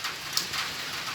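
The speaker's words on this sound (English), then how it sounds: "I'm doing this video guys because it's raining since morning" Heavy rain that has been falling since morning for about six hours, a steady broadband hiss of drops pattering on surfaces, continuous and moderately loud with no talking.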